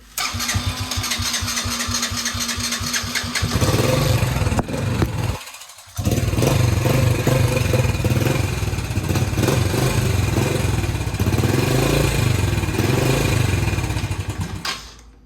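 A 2008 Yamaha Grizzly 80cc four-stroke quad with a smoked ring and pinion starts and runs loudly nearby with a rough idle. The engine briefly cuts out, then fires up again and keeps running steadily.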